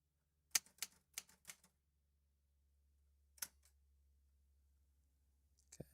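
Several crisp typewriter key strikes in a quick cluster, then a lone strike after a pause and a final flurry at the end, close and clear over a faint low hum.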